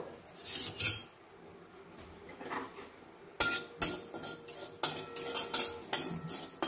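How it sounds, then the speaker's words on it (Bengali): Poppy seeds dry-roasting in a kadai for a red amaranth dish come through as close, irregular scrapes and clinks of a spatula stirring against the metal pan, with quiet gaps between bursts and no talking. "পোস্তটাকে আমি একটু রোস্ট করে নেব।"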